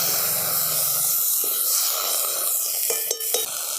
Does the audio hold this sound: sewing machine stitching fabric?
no